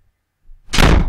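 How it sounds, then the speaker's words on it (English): A door blown shut by the wind, a soft preliminary bump then a sudden loud slam with a brief ringing thud, close and alone. "the wind blew my door shut"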